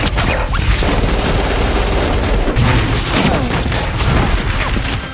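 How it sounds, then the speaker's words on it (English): Dense, loud HK-416 assault rifle fire erupts in a film scene, a continuous volley of overlapping shots and booms from soldiers shooting into a room, with no pauses across the whole stretch. "The soldiers open fire on the room with their HK-416 assault rifles"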